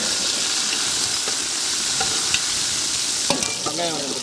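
Curry leaves frying in hot oil for a crab omelette give a loud, dense, steady sizzle close up, with a few faint scrapes and clicks of a spoon toward the end.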